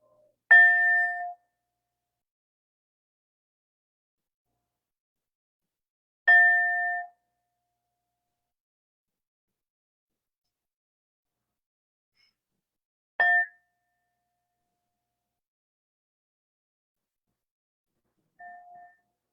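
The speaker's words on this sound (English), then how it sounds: "with the sound of the bells, we will begin" A clear meditation bell rings four times with long silent gaps between strikes, each tone ringing out and fading, the last one softer.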